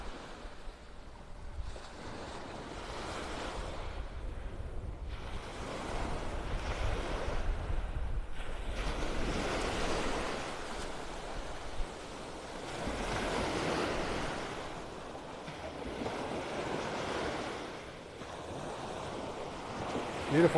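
Surf rolling in with gusting wind at Delnor-Wiggins beach in Naples, Florida, broad washing swells rising and falling every few seconds, with rumbling wind buffeting the microphone throughout.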